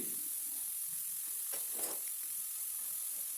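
A steady sizzle of potatoes frying in hot oil over a medium flame runs throughout, with a brief louder burst of crackling partway through.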